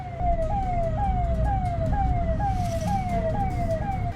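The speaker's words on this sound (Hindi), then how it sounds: "पीछे से सायरन वाली गाड़ी की आवाज आ रही है।" An emergency vehicle siren wails in a rapid repeating rising sweep, chasing a speeding tractor trolley on a road, clear and fairly close over a low rumble of traffic.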